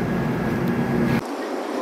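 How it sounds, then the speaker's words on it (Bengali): Brand-new Humsafar Express train pulling away from Sealdah station on its first commercial run, a steady broadband rumble of rolling stock with a faint tonal hum that drops off abruptly partway through. "ট্রেন দিয়ে দিয়েছে, ট্রেন সামনের দিকে এগিয়ে যাচ্ছে"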